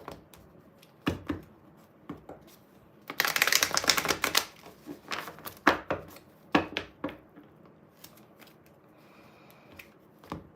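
Tarot cards are shuffled in a quick, crisp riffle burst, followed by scattered taps and flicks as individual cards are drawn and laid down, close and clear.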